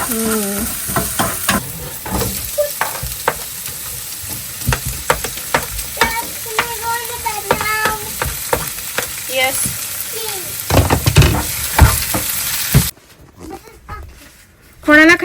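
Potato bhaji frying and being stirred in a pan inside a camper van, with sizzling and scraping stir strokes, a voice talking over much of it, and a quieter stretch near the end.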